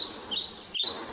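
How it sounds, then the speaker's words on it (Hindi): A small bird chirps in quick, high, bright tweets, close and continuous for a short moment in a Hindi comedy scene. "वो देखिए चिड़िया चहक रही है"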